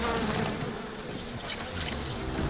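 A swarm of bees unleashed in BioShock drones and buzzes loudly and continuously, close and dense, over faint game background sound, with no talk.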